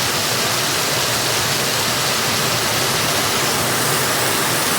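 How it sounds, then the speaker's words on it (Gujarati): Heavy rain pours down in a dense, constant roar that fills the whole stretch without letup, loud and close, with no voices over it. "બહુ જ મારો વરસાદ છે"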